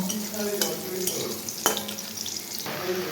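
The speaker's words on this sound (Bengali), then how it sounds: "এদিকে রসুন কাঁচা লঙ্কা ফোড়ন দিলাম" Garlic and green chilies tempering in hot oil, giving a steady close sizzle with light stirring scrapes and a few sharp pan clicks throughout.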